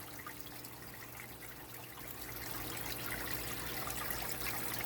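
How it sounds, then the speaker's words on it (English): Water trickles steadily over rocks in a home aquarium, forming a small waterfall: a soft, continuous, close-up splashing hiss that swells slightly toward the end, with no voices. "We actually get some of the water dripping down here, and we get a little bit of a waterfall effect underneath of it."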